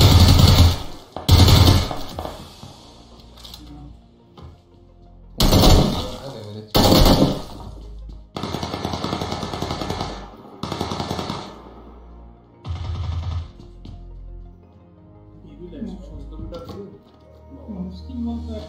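Shotgun blasts in a video game ring out as loud, separated bursts spread across the stretch, mixed in with a person talking between and over the shots.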